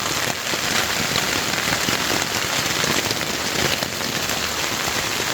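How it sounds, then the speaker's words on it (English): Steady, dense rain falls at night on a campsite, a constant close hiss of drops striking surfaces with no breaks and no voices. "it's been raining for quite a while"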